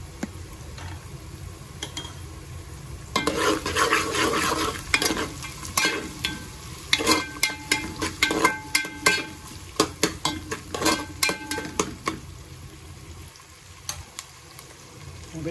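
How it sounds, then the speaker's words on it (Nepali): Onions frying lightly in a pan while being stirred, steady sizzle with repeated scraping and stirring clatter growing busier midway, close and alone with no talk. "यता चाहिँ प्याज हल्का फ्राई हुँदैछ"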